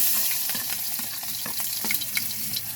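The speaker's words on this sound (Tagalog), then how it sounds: "init ng ating mantika at lalagyan natin ang mga sangkap." Ingredients for chicken adobo sizzle in hot cooking oil, a close, steady hiss with faint crackles and small pops, no voices.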